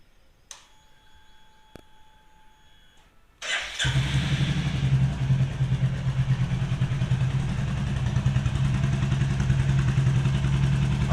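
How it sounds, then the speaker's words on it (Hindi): Royal Enfield Classic 350 motorcycle fitted with an aftermarket Shark silencer starts up after a few faint clicks and settles into a loud, steady thumping exhaust idle up close. "Let's here the sound of exhaust note."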